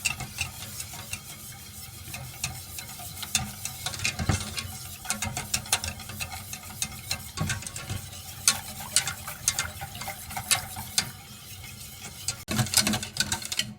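A utensil scrapes and taps repeatedly against a saucepan while stirring thickening batter in a steady rhythm, with faint sizzling underneath.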